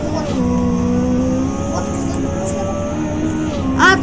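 Car engine in a racing video game pulling away, a steady mid-pitched drone that rises slightly as it goes, with voices talking over it.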